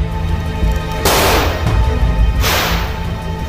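Gunfire rings out during an exchange of fire in Nablus: two sharp, loud cracks that each trail into a long echoing rumble over a steady background din.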